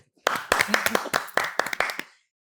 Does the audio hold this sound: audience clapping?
yes